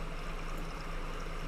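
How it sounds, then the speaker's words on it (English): Small waterfall where a waterway breaks off in the block-building game Luanti, a steady rushing wash of falling water, continuous and close, with no voices over it. "The waterway just breaks down right here and becomes a little waterfall."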